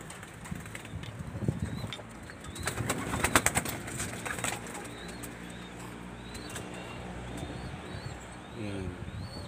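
Pigeons in a loft coo in soft repeated calls while wings flap in short bursts, close by, with a person talking quietly underneath.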